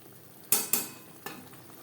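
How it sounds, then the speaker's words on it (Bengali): Spices frying with boiled chickpeas in a pan over low to medium flame for a banana flower dish, three quick scraping stirs of a spoon over a soft background sizzle. "লো টু মিডিয়াম ফ্লেমে তিন চার মিনিট ছোলার সাথে মশলা বেশ ভালো করে কষিয়ে নেব"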